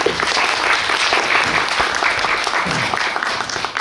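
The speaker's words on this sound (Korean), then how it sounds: "여러분 박수 한번." Audience applause at a film screening and audience talk event, a steady, full round of clapping from the seated crowd, continuous and fairly loud throughout.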